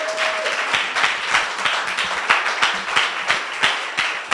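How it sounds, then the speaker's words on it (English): Audience applause and clapping for Billy Carson at a live talk event in The Bronx, a dense, steady burst of many hands clapping with sharp rhythmic peaks throughout, no talking over it. "Ladies and gentlemen, a round of applause for Billy Carson."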